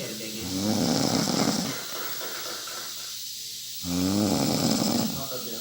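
A woman snores loudly, compared to an airplane engine, in two long, rough, rumbling snores separated by a quiet breath.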